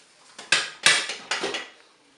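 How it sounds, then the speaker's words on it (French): Close clanks and metallic rattles from opening a Cookeo multicooker and handling its cooking pot to drain cooked beans, several sharp knocks spread over two seconds with no talk. "La cuisson est terminée, je vais ouvrir mon cookéo."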